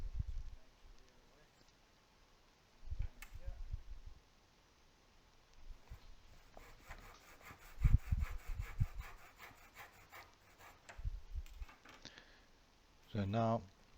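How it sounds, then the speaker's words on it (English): A hand saw cuts short kerf marks into a wooden clamp bar in a few brief bursts of rasping strokes, separated by pauses and some quiet handling noise. "I'm just going to put one saw mark, and I'm going to put it in 3 places along the bar"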